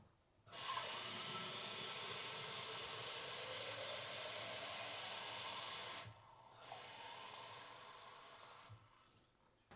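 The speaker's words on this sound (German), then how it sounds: "Ich fülle die Trinkflasche auf." Water pours into a drinking bottle in two bursts, a steady close hiss lasting several seconds, a brief pause, then a shorter, slightly lower pour before it stops, no talking.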